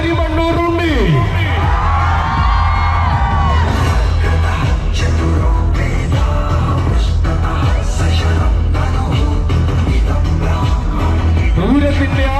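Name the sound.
crowd cheering at Thirunakkara temple pooram festival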